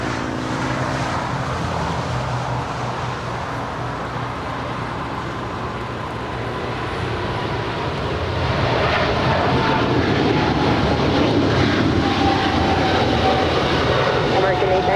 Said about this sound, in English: That is American 136 Heavy departing to London Heathrow. It's a 777-300ER.